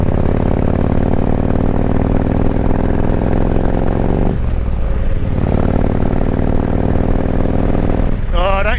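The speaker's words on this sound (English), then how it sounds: "Oh, don't you just love those true dual exhausts, Vance and Hines." Motorcycle with Vance and Hines true dual exhausts, a loud, close, steady low engine rumble throughout that dips briefly midway before resuming, with a voice talking over the end.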